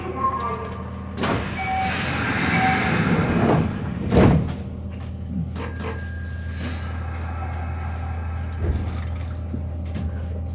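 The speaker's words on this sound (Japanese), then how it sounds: "扉が閉まります。" A Hanshin train's doors slide shut at Nishinomiya station with a loud whoosh and a solid thud, over the steady rumble of the train and surrounding station noise.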